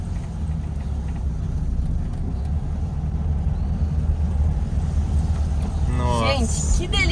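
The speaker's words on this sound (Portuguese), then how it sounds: "Gente, que delícia dirigir o Fuscão, hein?" A 1978 Volkswagen Fusca (Beetle) driving, its low engine rumble steady and close, with people talking over it inside the car.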